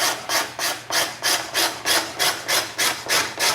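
A cabinet scraper with a tiny hooked edge drawn repeatedly across mandolin wood, giving about ten steady rhythmic rasping strokes, close and clear with no talk.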